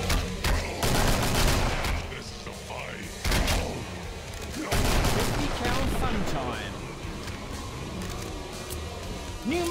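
Rapid bursts of gunfire during a KFG airsoft semi-final match, clusters of sharp shots and brief volleys in uneven rhythm, heard amid outdoor noise with voices talking over and between the shots.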